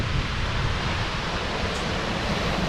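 Minnehaha Falls in Minneapolis pours in a constant broadband rush of falling water, steady and full without pauses, heard close and loud with no voices.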